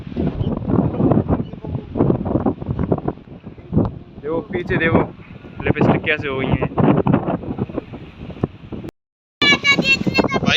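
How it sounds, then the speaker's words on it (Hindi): Rain and strong wind in a village, a steady rough rush of gusts buffeting the microphone under nearly continuous close talking, with a brief dropout near the end. "बारिश आ गई, बहुत तेज हवा चल रही है"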